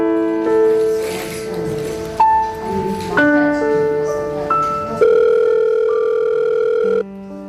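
Telephone on a ringing line waiting to be answered, a loud, clear electronic tone stepping between several pitches over about seven seconds with no talking.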